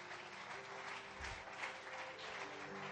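A church congregation claps for the King of kings in a long, steady wash of applause that stays faint and distant.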